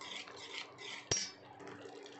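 A spoon stirs tomato gravy in a pan after ground fenugreek powder goes in, giving a steady scraping swish with one sharp metallic clink partway through, close and alone.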